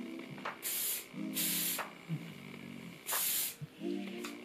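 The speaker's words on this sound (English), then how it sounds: "just going to spray it with a little bit of hairspray" Hairspray hisses out in three short bursts from an aerosol can, close up, with quiet rustling and faint movement between sprays.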